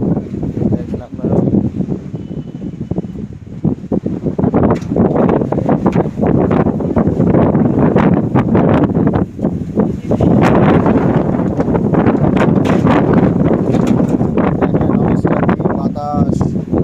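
Strong wind blows under a cloudy sky as a rainstorm approaches, buffeting the microphone in loud, rough gusts for the whole stretch while a person talks at times.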